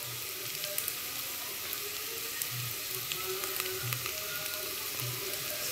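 Tempering for khichdi sizzles in hot oil in a home kitchen, a steady close crackling hiss with soft pops and light clinks, no voices.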